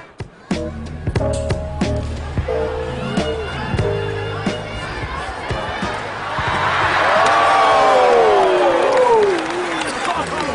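A crowd at a live sports event: sharp thuds and bangs ring out early, then a distant roar swells and peaks in the second half, with indistinct voices mixed into the noise.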